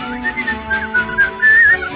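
A person whistles a short cheerful melody in a radio theater production of Snow White and the Seven Dwarfs, clear bright notes rising and falling in quick phrases, close and alone.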